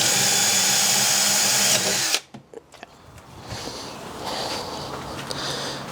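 Power drill boring a hole for a hydroponics gasket, a steady loud whine for about two seconds that cuts off abruptly, followed by light handling clatter and low background noise.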